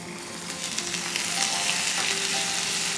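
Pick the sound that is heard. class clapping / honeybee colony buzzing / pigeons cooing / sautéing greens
sautéing greens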